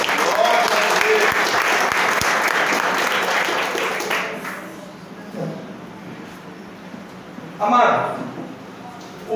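A church congregation applauding, sustained dense clapping that fills the room and gradually thins out into scattered claps and murmurs, with a brief swell near the end.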